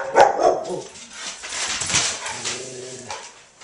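A pet dog barks a few times at home, sharp yips close by at the start, then fainter whimpering bursts with a thin voice murmuring low in the background.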